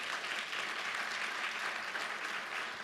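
A conference audience applauds the sponsors at a rare disease family gathering, giving a dense, even wash of clapping from a large room that holds steady throughout the short burst.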